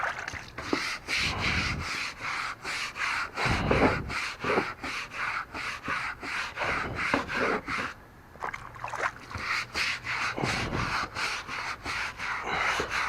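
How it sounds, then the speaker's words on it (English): A stiff brush scrubs a wooden deck coated in bleach and OxiClean, giving repeated close, rhythmic rasping strokes with brief pauses. "But I'm just going to scrub it in."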